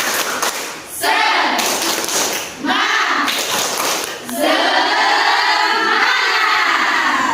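A classroom of students performs a rhythmic spirit clap in bursts of unison clapping and chanting voices, separated by short pauses, loud and close.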